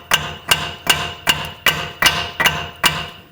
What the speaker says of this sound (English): Going to hammer in this end over here.